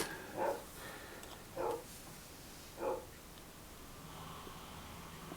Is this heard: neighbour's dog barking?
yes